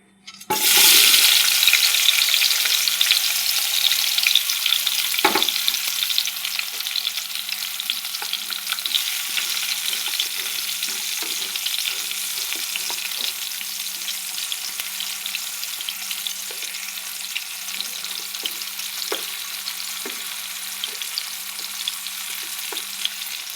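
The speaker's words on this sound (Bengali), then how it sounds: "তেল গরম হয়ে গেছে, এবার দিয়ে দেবো মশলা মাখানো বেগুনগুলো।" Spiced eggplant pieces hit hot oil, setting off a sudden loud sizzle that stays dense and crackling, then eases slightly while continuing with occasional pops and clinks. No one speaks.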